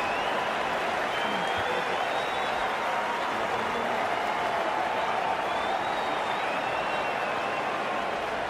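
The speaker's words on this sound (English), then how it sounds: "What the crowd have come to see. Nicely played." A cricket crowd at a T20 World Cup first-round match between the Netherlands and Namibia applauds a boundary four, with continuous, even clapping and crowd noise from a distance throughout.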